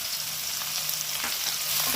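Onion pieces drop into hot oil in a pan, with bay leaf already in, as a mutton curry is cooked. A steady, close, bright sizzle carries on for the full stretch with no talk.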